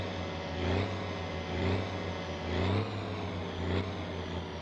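A car engine in the video game My Summer Car revs in a steady loop, rising in four rhythmic surges about a second apart over a constant low idle drone.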